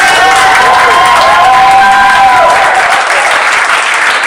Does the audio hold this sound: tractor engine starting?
no